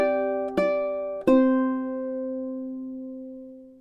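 Ukulele plays the closing measure of the French folk song "Au clair de la lune": three plucked notes in quick succession, the last held and ringing out slowly, close and clear with no voices.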